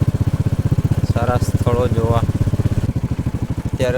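A motorcycle engine thumps in a fast, even pulse while riding, close and steady, with someone talking over it.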